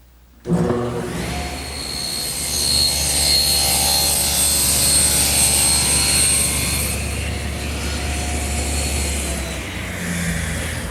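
A table saw rips a sheet of plywood to 23 5/8 inches for an armoire entertainment center, a steady loud whine holding for about ten seconds after a sharp start and easing slightly near the end.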